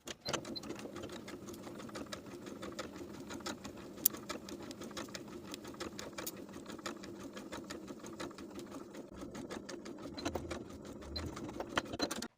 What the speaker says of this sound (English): I'm going to sew this section exactly as I did on the other side of the armhole